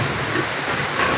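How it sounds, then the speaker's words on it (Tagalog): Steady, dense rain pouring during an approaching typhoon, a continuous broad hiss with no gaps, loud and close, with no talking. "Meron kasi tayong bagyo"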